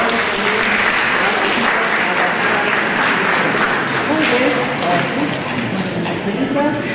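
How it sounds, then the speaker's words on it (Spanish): Guests at a wedding and baptism mass clap together in a loud, continuous round, with voices talking over the applause. "Aplausos para los que van a venir a la ciudad."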